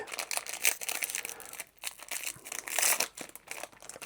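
A Yu-Gi-Oh! Chaos Origins booster pack wrapper is torn and crinkled open in short, close, bursty crackles of foil plastic with brief pauses, and no one speaks.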